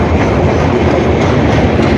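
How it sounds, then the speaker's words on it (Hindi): A train runs at speed along a railway line on the Janghai–Prayagraj route near Phulpur, a loud continuous roar of wheels on track with rhythmic clickety-clack throughout and no talking. "गाड़ी अच्छी खासी स्पीड में दौड़ रही है।"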